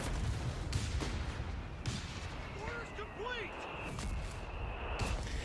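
Paired mortar fire in the strategy game Company of Heroes 3 sounds as dull, booming thuds amid rumbling battle noise, with whistling shells overhead and a commentator talking over it.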